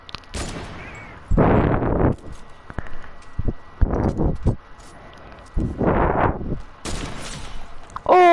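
Sniper rifle fire rings out in an online shooter match, several loud separate cracks with trailing echoes spaced across a quiet background, with brief game sounds between shots.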